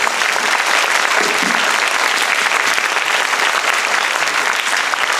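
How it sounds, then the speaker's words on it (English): Dense, loud applause from a university lecture audience for Professor Roth, steady, continuous clapping that holds throughout without letting up. "let's give another big round of applause to Professor Roth and Honorary"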